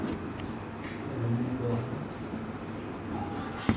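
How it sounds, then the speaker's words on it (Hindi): Faint, steady scratching of writing on a board during a Class 10 Hindi-medium maths lesson on trigonometry, heard as a low continuous scrape in a quiet room with a brief knock near the end. "तो यहाँ पर लिखेंगे पाइथागोरस"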